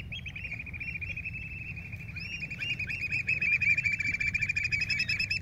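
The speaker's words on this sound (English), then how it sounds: "Those are your parents, very noisy. They are concerned that I'm going to hurt you." Parent seabirds call noisily near their chick on an ocean rock, a continuous stream of high, overlapping cries that grows louder and denser, close by and alone without talk.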